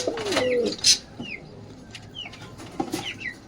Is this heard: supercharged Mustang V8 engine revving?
no